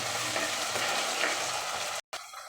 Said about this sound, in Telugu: అల్లం వెల్లుల్లి పేస్టు పచ్చివాసన పోయేంత వరకు చక్కగా ఫ్రై చేసుకోవాలి